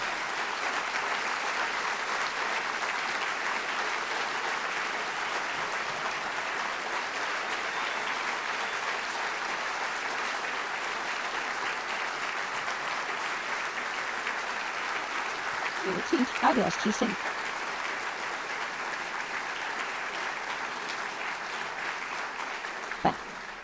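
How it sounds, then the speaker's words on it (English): Hearty round of applause from the audience for competitor teams at an architectural finalists showcase, sustained and even but fairly distant, with a brief voice or louder burst near the end. "for the audience to please show your appreciation with a hearty round of applause"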